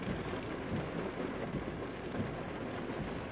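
Steady rain falls as a dense, even hiss, with a low rumble underneath, continuous and unbroken for a few seconds with no voices.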